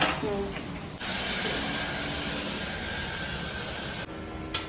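Tomato puree hitting a hot pan for homemade dal makhani, a steady loud sizzle and hiss that starts abruptly and runs for a few seconds before cutting off.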